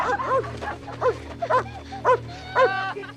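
A golden retriever barks and yips in a quick series of sharp, close calls at a steady rhythm, with faint whimpering between barks over a low background hum.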